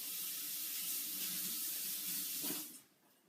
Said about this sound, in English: What I'm going to do is just rinse my hand.